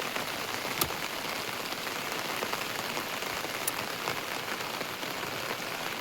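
Steady rain pours down, a dense continuous hiss of drops hitting a surface, with a couple of sharper drip taps standing out.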